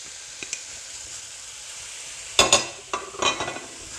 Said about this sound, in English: Stir fry all that up.